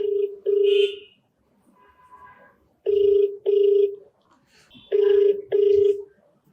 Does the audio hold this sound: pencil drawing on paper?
no